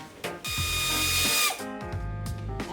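Power tool spinning off the last nut on a Jeep Cherokee XJ fender plate, with loud whirring bursts that rise and stop, ratcheting clicks between them, close up and without speech.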